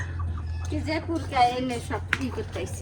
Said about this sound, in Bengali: মুরগি